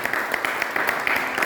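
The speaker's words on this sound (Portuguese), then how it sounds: "Dá um aplauso a ele aí" A church congregation applauds during an evening communion service, a steady, moderately loud wash of clapping with faint voices mixed in throughout.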